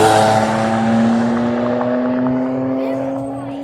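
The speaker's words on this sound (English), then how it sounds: "It's a Lamborghini." A Lamborghini Gallardo with a twin turbo V10 at a drag race event, a loud close engine roar holding a strong steady tone that fades slightly as it pulls away over a few seconds.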